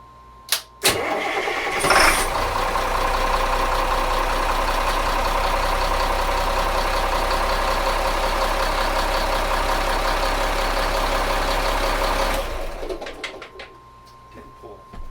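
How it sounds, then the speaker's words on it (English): A boat's port engine cranks and fires after a couple of sharp clicks, then runs at a loud, steady, close rumble for about ten seconds before shutting down, with faint clatter afterward. "make sure this is the port engine. Let's bump it, see if she starts"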